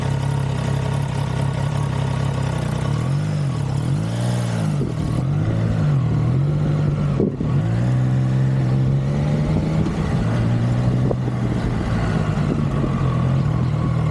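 A Triumph Trident motorcycle engine with about 20,000 miles runs steadily, a loud continuous drone with rising and falling revs as the bike rides along at modest speed.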